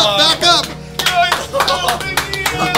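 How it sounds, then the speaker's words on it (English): A small group claps in brief bursts to applaud someone who just faced a fear, with voices talking and reacting loudly over and between the claps. "Give him a round of applause."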